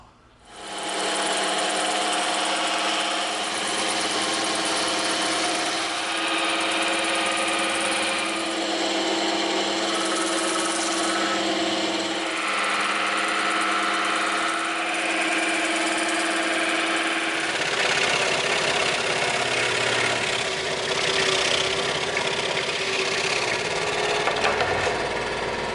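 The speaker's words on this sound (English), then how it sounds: "now we're going to begin cutting these all out on the bandsaw and the scroll saw" Bandsaw and scroll saw cut EVA foam shapes in a workshop, giving a continuous loud mechanical whine with shifting tones as the blade works through the foam.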